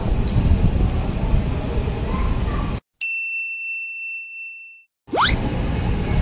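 A clear electronic chime rings out at a Jakarta station as a CRRC CLI-125 commuter train bound for Cikarang departs, the chime alone and sustained before rumbling train noise returns.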